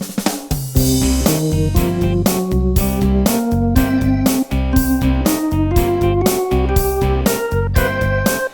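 A piano plays an ascending C blues scale, loud and close, each note struck with a chord or bass beneath it in a steady rhythm, climbing note by note with no talking.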